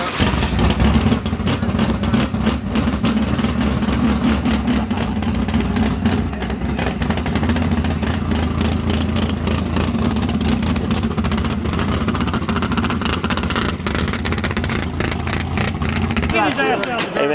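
Farm Truck drag racing car at Mo-Kan Dragway, its engine running loud and steady with rough revving for most of the stretch, cutting off near the end, with voices faintly underneath.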